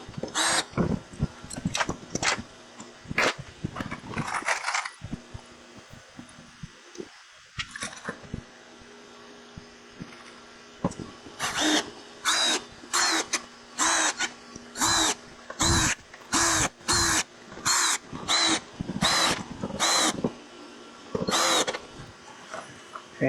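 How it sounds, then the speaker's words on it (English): A power driver runs screws back into their original holes on a wooden freeze dryer cart, giving a series of short whirring bursts in quick succession with clicks and handling noises between them. "So these screws should go right back in the same holes."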